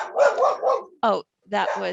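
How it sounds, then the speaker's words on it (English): A dog gives a short, sharp bark at the arrival of a delivery driver nearby, one loud burst between stretches of a person talking. "my dog"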